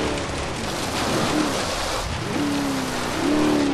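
Light rain in the racing game Forza Horizon 3 makes a steady, even hiss that lasts throughout, with a car engine droning and shifting pitch underneath.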